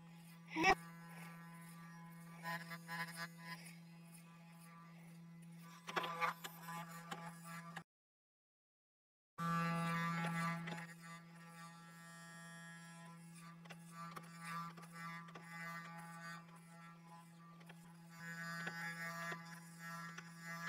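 Electric clippers shaving off hair, a steady close buzz that runs on and off across the span, cut out briefly once, with faint changes in tone as the blades move through hair.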